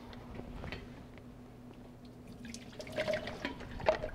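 An AeroPress coffee maker is rinsed under water after the coffee puck is pushed out, giving soft, intermittent splashing and dripping close by, with brief louder gushes near the end.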